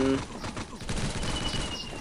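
Gunfire in the online shooter game Crisis Action, a dense rattling fusillade of rapid shots that continues throughout with a voice talking over it.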